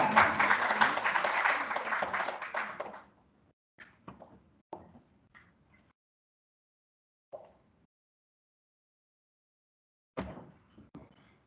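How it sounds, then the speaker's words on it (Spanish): Listeners at a Peruvian marine institute webinar give a dense round of applause that fades after about three seconds, followed by a few scattered, isolated claps and long quiet gaps. "Y un fuerte aplauso para él"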